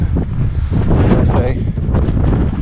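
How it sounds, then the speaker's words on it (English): Steady wind roars and buffets the microphone outdoors on open, rugged terrain at Punta del Hidalgo, a continuous rushing gust without pause. "it's certainly still pretty windy in this neck of the woods"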